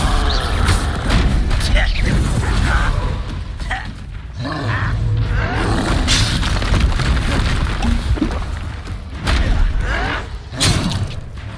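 Confringo fire spell explosions in the Hogwarts Legacy video game, heavy booming blasts and thuds amid loud combat noise, with game voices shouting over the fight.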